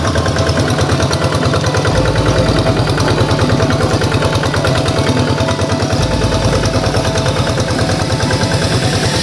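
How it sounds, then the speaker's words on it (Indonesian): Several tractor engines idle together in the morning before heading out to rice fields, a loud steady diesel chugging with a fast regular pulse that runs without a break, and no one speaking. "pagi ini banyak traktor yang akan berangkat ke sawah"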